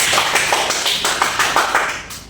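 Classroom pupils clapping for a student during a civics lesson, a quick string of sharp hand claps in an uneven rhythm, fairly close and steady, with no talk over it.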